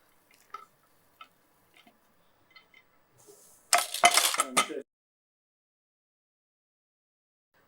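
Roasted coconut tips into a pan in a quick, rattling, scattering pour lasting about a second, preceded by faint isolated clicks and taps in an otherwise quiet kitchen.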